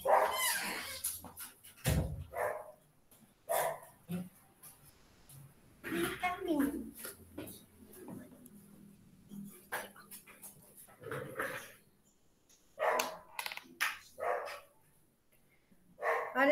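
Miniature pinscher dogs in a home bark in sharp, repeated bursts with occasional whimpers and yips, close by, while a person talks in between the barks.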